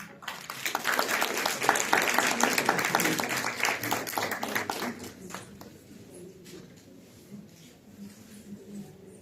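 An audience claps for a name called out in a roll call at a nutrition and emotional health congress; dense, steady clapping fills the first half, then thins and fades to a quiet room.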